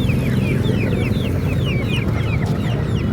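Young Bangkok chicken chicks, one to three months old, cluck and peep continuously in a busy, close chorus of short chirps over a steady background.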